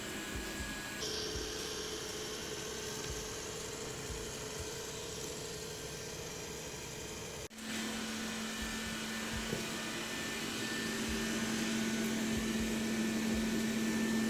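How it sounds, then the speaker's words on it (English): A Xiaomi Mi Robot Vacuum Mop 2 running in turbo mode gives off a steady, loud whirring suction drone with a high motor whine that shifts pitch partway through, then continues alone. "So I gave it another run right now, placing it on turbo mode to see if the stronger suction would clean off all those remaining dust or not."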